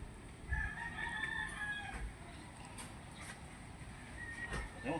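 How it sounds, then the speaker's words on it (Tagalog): A rooster crows faintly in the distance outdoors at a construction site where rocks are being lifted from a pit, the call drawn out and partly masked by steady background noise. "Tandang."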